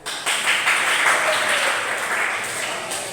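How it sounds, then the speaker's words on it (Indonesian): A class breaks into applause, a burst of many hands clapping that swells quickly, stays full and steady, then tapers slightly toward the end. "Tepuk tangan."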